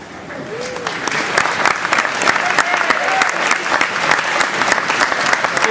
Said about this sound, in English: Get that round of applause.